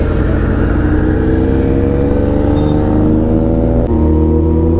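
A Suzuki Hayabusa motorcycle engine drones loud and close while riding, a steady thick rumble that holds its pitch then dips sharply near the end as the throttle shifts.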